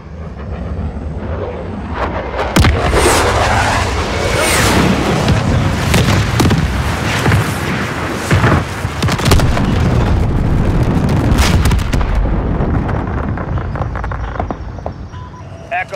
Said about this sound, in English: Calling in fire mission 3-1.